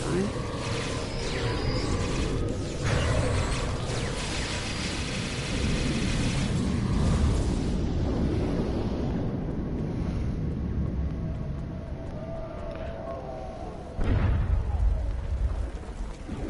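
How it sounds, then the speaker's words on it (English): Anti-proton weapons fire in a Star Trek Online space battle. Heavy rumbling blasts and explosions churn continuously, with a fresh loud impact near the end and voices talking over the din. "They're using anti-proton weapons."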